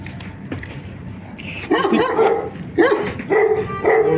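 Several dogs bark loudly and repeatedly close by, overlapping yips in short bursts, with a quieter bark earlier.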